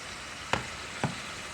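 Oxtails frying in a pan give off a steady, even sizzle, with two sharp pops or clinks standing out against the continuous hiss.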